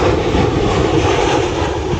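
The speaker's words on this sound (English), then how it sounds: "The sounds of airplane." An airplane flies overhead with a steady, loud, broad engine roar that holds constant throughout with no talk.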